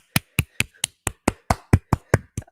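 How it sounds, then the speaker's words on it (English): Hands clapping in applause, about eleven crisp, evenly spaced claps at a steady moderate pace, close and clear with nothing else behind them. "I give you applause for achieving that."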